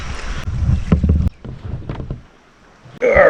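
A kayak moves through shallow rapids on the Devil's River in Texas: rushing, splashing water with scraping knocks, a quieter lull, then a sudden loud burst of churning water near the end.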